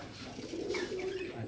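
Pigeons coo softly in a pigeon loft in Canning, where teddy pigeons are kept, giving a low, continuous murmur of overlapping coos with no talking.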